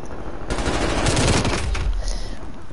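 LC-10 submachine gun fire in the video game Call of Duty: Black Ops Cold War: a loud, continuous burst of rapid automatic shots lasting a few seconds, with no voices over it.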